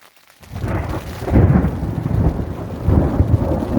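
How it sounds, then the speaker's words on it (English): A deep rumble of thunder rolls in and builds during a thunderstorm on the Swift Creek Trail, with rain hissing steadily alongside it, loud and close. "It's a thunderstorm moving through."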